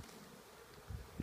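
Faint, close buzzing of honey bees being shaken from a frame into a hive, with a couple of brief louder thuds, against a soft hiss.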